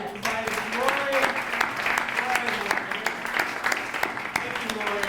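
An audience at a 60th school reunion claps together, a steady crowd applause lasting throughout with voices talking and calling out over it.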